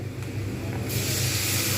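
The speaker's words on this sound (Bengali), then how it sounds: "এবার আমি এর মধ্যে মশলাটা দিয়ে দেবো যেহেতু ভাজা হয়ে গেছে পেঁয়াজগুলো" Spices dropped into hot oil with fried onions hiss sharply, the sizzle swelling suddenly to a loud, steady spray-like crackle close by.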